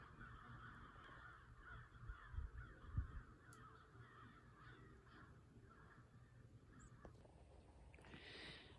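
Crows caw outdoors on a foggy day, with a few harsh calls close together near the middle, heard faintly against quiet background ambience.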